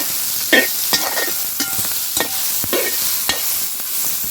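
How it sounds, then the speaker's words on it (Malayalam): Tomatoes frying with chopped vegetables in a hot pan give a steady close sizzle, punctuated by several sharp scrapes and taps of a stirring spoon, without any talking. "തക്കാളി ഇട്ടിട്ടുണ്ട്, ഇത് വറുത്ത് കൊടുക്കാം."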